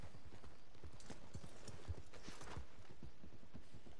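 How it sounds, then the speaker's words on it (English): Hooves of a brown and white horse clip-clop in Red Dead Redemption 2, a steady walking rhythm of soft thuds, fairly quiet and close, with no talking. "I've got a brown and white horse"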